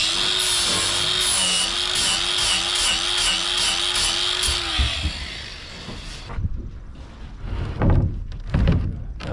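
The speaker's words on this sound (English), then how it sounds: "here comes Nick with our grinder." An angle grinder whines steadily and loud during deck construction on a boat kit build, its pitch wobbling slightly for about five seconds before cutting off, followed by scattered clunks and knocks of the work.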